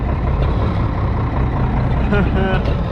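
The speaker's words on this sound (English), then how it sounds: "I love old diesel tractors. We're just gonna let it sit here and thump for a minute" An old Minneapolis Moline G707 diesel tractor, revived after sitting parked for years, idles steadily with a continuous low thumping rumble, close by and fairly loud throughout.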